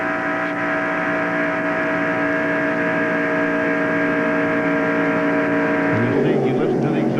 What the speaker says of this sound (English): You listen to the exhaust, they never back off the throttle.